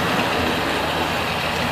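A Norfolk Southern train idling on the main line, giving off a loud, steady, dense engine rumble that never changes.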